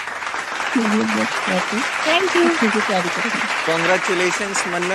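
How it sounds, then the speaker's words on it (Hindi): An audience applauds the contestants of an antakshari singing contest. Loud, continuous clapping runs throughout while a voice speaks clearly over it. "तो इसी के साथ हमारे तीनों कंटेस्टेंट्स के लिए ढेर सारी तालियां।"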